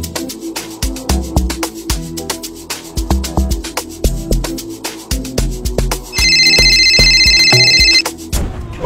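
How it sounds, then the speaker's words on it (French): A mobile phone ringtone plays as a loud, bright melodic tune of repeated notes, ending in a sustained high ringing passage before it cuts off. "je vois ton téléphone en train de sonner, c'est ta mère qui t'appelle"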